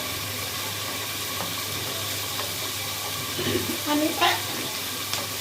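Onions sizzle in hot oil for chicken biryani, a steady soft frying hiss with a few clinks of a spatula, while a voice speaks briefly over it.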